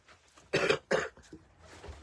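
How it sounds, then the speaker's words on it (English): Two sharp, close coughs in quick succession, followed by a small throat sound. "I was so glad when this cough goes away."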